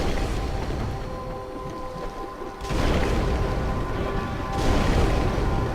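Fire spells cast at enemies in Dark Souls, heard as heavy whooshing booms in two loud bursts over a rumbling, roaring backdrop.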